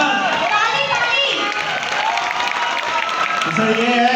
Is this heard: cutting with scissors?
no